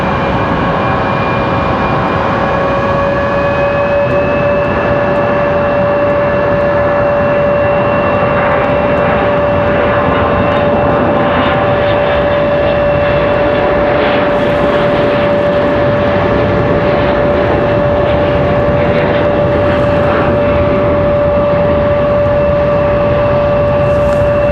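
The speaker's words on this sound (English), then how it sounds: "CRJ 900 on the move for Delta Airlines." Delta Air Lines Bombardier CRJ900 regional jet taxiing at Raleigh-Durham International Airport, a steady loud turbine whine with a sustained high tone and broad rumble holding throughout, no talk.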